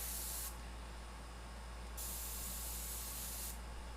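An airbrush sprays paint onto a stencil in bursts of soft hiss, with one short burst and two longer ones against a quiet background hum.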